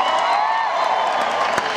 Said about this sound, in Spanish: Un aplauso para Sandy